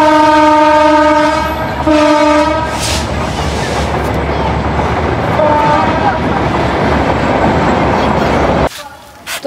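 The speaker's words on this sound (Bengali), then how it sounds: "এখন আমাদের এই লাইন দিয়ে ট্রেন যাচ্ছে" Madhumati Express passenger train passing on a rural railway line in Bangladesh, loud and close with a long blaring horn, rolling wheel rumble and rattling carriages, a voice briefly audible over it before the noise suddenly drops away at the end.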